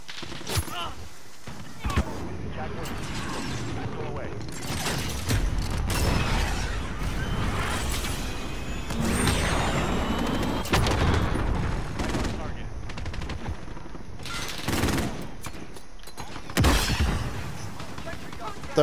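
Automated sentry gun firing in Call of Duty: Modern Warfare, rapid bursts of gunfire rattling through a busy match mix with mechanical clatter and voices talking over it.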